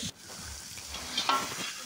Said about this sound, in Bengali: বেগুনটা একটু ভাজা হয়ে যাওয়ার পরে আলুটাকে দিয়েও ভালোভাবে একটু ভেজে নিতে হবে।